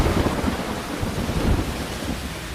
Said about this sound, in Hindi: तेज बारिश के बीच द्वारकाधीश मंदिर के शिखर पर बिजली गिरने की ये तस्वीरें कैमरे में कैद हो गई हैं